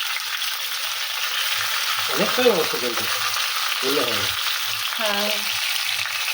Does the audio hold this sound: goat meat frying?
yes